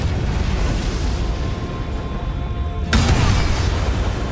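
A Booming Blade spell attack in the video game Baldur's Gate 3 lands as a sudden loud boom near the end, cutting through a low, steady rumbling ambience with no voices.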